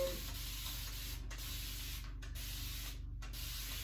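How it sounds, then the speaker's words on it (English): Several quick, close bursts from a spray bottle misting water onto natural hair, short hisses in a row with brief pauses between them. "I'm gonna just spray a little water before I put my leave-in in"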